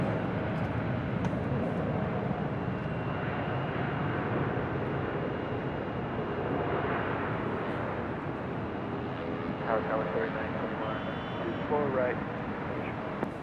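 Broad jet engine roar from a Delta Connection Embraer E175LR at LAX fills the scene steadily, with a voice talking over it throughout.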